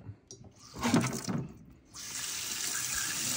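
A kitchen sink tap runs water over a dishwasher filter being washed out, with brief splashing bursts and then a steady stream of flowing water.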